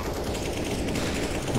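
Counter-Strike: Global Offensive gunfire: a dense, continuous burst of rapid shots fills the whole stretch at steady loudness, with no clear gaps between rounds.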